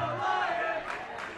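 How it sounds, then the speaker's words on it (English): Crowd of family and friends cheering at the 2012 GHSWPA state high school water polo tournament, a steady roar of many voices filling the indoor venue, with a commentator talking over it. "And the crowd's going wild here."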